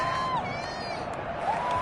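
Stadium crowd roar in Madden 21 during a Falcons versus Bills Super Bowl game, a steady dense wash of cheering and shouting with whistle-like tones rising above it, loud and continuous for the whole stretch.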